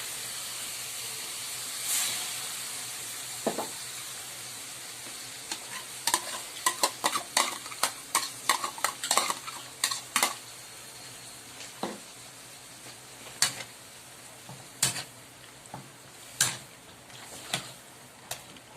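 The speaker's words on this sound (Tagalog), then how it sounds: "Then, lagyan natin konting water." Dried menudo in tomato sauce with added water is stirred in a pan under a soft steady simmering hiss, with a spoon scraping and tapping the pan in irregular bursts of sharp clicks.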